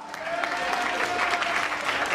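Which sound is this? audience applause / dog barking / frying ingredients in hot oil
audience applause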